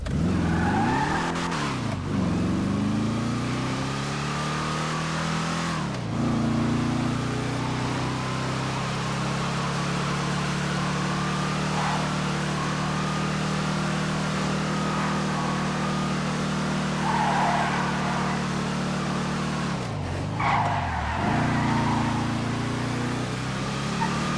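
An Impala XR drives hard, engine droning loud and steady with rich harmonics, its pitch dipping and surging at a few shifts or braking moments, with brief tire scrubbing near the end and no talk.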